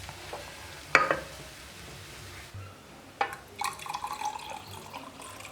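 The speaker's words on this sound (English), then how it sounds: "Give it a good stir." Rice and water being stirred in a pot for beef pilau, with a couple of sharp scraping clinks near the start and a burst of light sloshing and scraping toward the end, fairly close and otherwise quiet.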